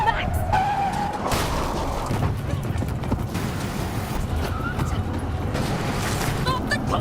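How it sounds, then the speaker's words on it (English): A car skids and crashes in the PS5 video game The Quarry, with a harsh, noisy tire scrape and rumbling impact noise running throughout and muffled voices mixed beneath. "They headed up a day early, get in a car wreck."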